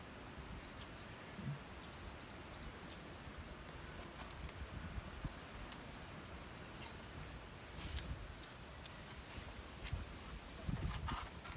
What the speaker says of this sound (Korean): 아주 바람이 많이 불어요.